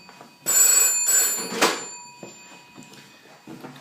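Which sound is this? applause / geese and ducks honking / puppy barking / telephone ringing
telephone ringing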